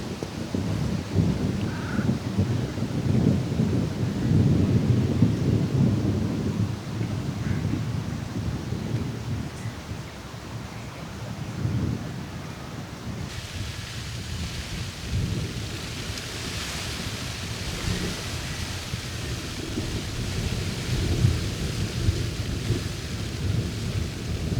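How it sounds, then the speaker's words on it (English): Steady light rain falls outdoors while low thunder rumbles and rolls at length, loud and continuous, with no voices. "It's not heavy rain, but there's an awful lot of thunder about"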